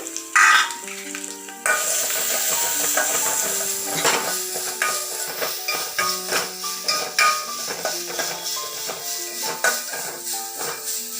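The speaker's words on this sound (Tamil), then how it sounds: "கருவேப்பிலை, அடுத்து நம்ம நசுக்கி வச்சுருக்கிற பூண்டு, சீரகம், மிளகு இதெல்லாம் போட்டு" Curry leaves, crushed garlic, cumin and pepper fry in a pan, with a steady sizzle and repeated scraping stir strokes clattering against the metal throughout, loud and close.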